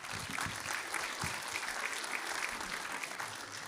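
Applause from an audience at a port's annual state-of-the-port event, a steady sustained patter of many hands clapping at moderate level throughout, with no voices over it.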